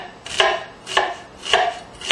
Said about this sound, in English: Go ahead and make some little slits in it.